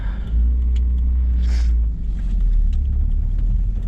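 Inside a moving car, a steady low engine and road rumble drones throughout with a passenger on board, loud and close with no talking.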